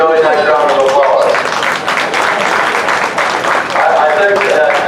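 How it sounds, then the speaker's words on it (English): Applause from the crowd at a youth sheep show after a lamb class, a steady wash of clapping that runs the whole time, with a voice talking over it. "Let's give them a really nice round of applause."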